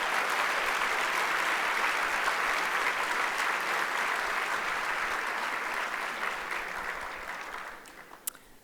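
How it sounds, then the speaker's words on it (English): Gala audience applause, a dense, loud, sustained wash of clapping from a large crowd that holds steady for several seconds and then fades out. "let's have some applause for everybody."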